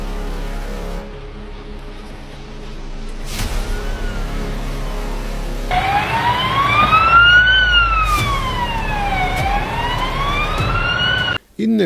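A fire engine siren sounds while the fire brigade is held up by a farmers' protest blockade near Bydgoszcz. A wailing tone sweeps up and down steadily over background traffic noise after a quieter opening.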